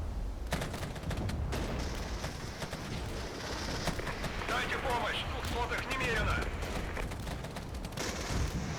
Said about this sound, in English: We'll just attack with our tanks there, our T-64s